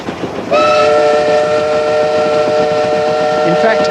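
A train whistle sounds loud and steady, a sustained multi-tone chord held for over three seconds above a rumbling rail background.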